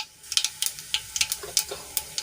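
Cumin seeds sizzle and crackle in hot oil in a kadai that already holds popped mustard seeds. Quick, sharp pops and spits come close up over a low hiss, with no talking.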